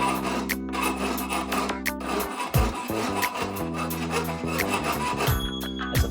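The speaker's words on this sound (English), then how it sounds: "Also helps to have a file, because we do have some burrs on the end of this." A metal file rasps burrs off the end of a Renthal FatBar handlebar held in a vise, in repeated rough scraping strokes over steady background music.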